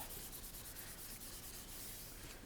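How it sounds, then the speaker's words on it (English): Steady scrubbing of paper being rubbed by hand to make vellum-type paper for junk journals, a continuous close, quiet rasp with a fast back-and-forth rhythm. "I'll just go over and rub it in."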